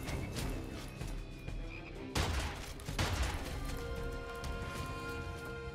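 Two heavy shotgun blasts in Immortal Redneck, punchy close shots about a second apart over busy game background sounds.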